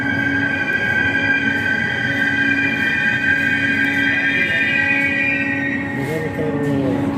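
An underground Riyadh metro train runs through a station with a steady, loud rumble and a sustained tonal whine, ending in a brief squeal of wheels, heard close with no clear speech.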